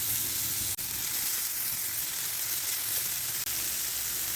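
Shrimp frying in coconut oil, giving a loud, steady, close sizzle that runs without a break, with two brief sharp clicks along the way.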